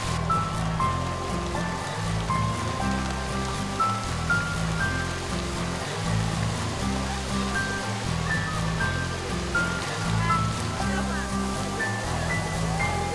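The Latona fountain in the La Granja palace gardens sends water splashing and rushing in a constant, moderately loud wash with no pauses.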